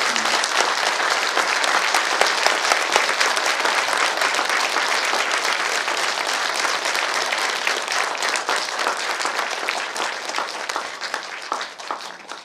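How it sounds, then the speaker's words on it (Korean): A large Buddhist congregation at a dharma talk claps for the monk, a thick, sustained roar of hand clapping that holds steady and then tapers slightly near the end. "다시 한번 스님께 큰 박수 보내주시기 바랍니다"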